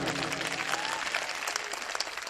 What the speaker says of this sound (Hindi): मैं आपकी समझ में आई हो बात तो आपकी तालियां बजनी चाहिए।